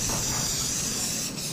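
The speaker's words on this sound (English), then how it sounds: "This is almost like Pam spray." A short, steady hiss of Ultra Lube 4X spray lubricant sprayed from an aerosol can onto Kubota 057-5 excavator parts, close and continuous for about a second and a half before trailing off.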